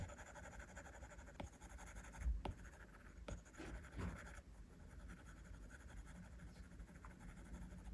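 A pen drawing a line on an iPad gives faint, quiet scratchy strokes, a few brief taps and scrapes over low background hiss.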